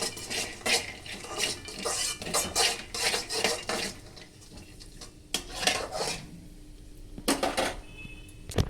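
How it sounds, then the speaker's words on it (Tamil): Mustard seeds frying in a pan for poori upma, stirred with a metal utensil that scrapes and clinks against the pan in repeated bursts, with a soft crackle underneath and no talking. "கடுகு போட்டுருக்கோம். நல்லா ஃப்ரை பண்ணிக்கணும்."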